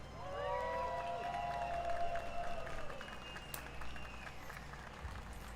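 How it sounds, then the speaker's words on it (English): Audience applause at the King of Fighters XV tournament finals, a steady wash of clapping from a crowd that swells early and then holds, heard alone at moderate distance. "Let's give a round of applause for everyone here."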